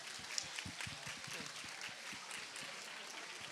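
An audience claps at a conference opening ceremony, producing a faint, continuous patter of many hands at a moderate distance.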